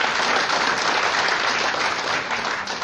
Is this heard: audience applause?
yes